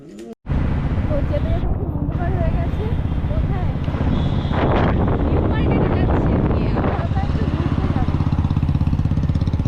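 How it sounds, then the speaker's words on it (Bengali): A motorbike engine runs with a steady low rumble right after a sharp start, close by and continuous, mixed with wind buffeting and people talking. "এই যে বাইক স্টার্ট করছে দেখো তোমরা"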